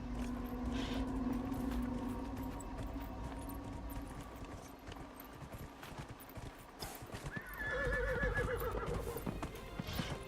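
A horse in the video game Dragon Age Inquisition neighs and whinnies while its hooves clip-clop at a steady gallop, the animal close and loud over faint game ambience, with a second whinny near the end.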